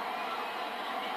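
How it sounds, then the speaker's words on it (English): A stadium crowd cheers at the 2013 Bangladesh Premier League cricket awards presentation, a brief, steady, dense roar of many voices. "listen to the cheer"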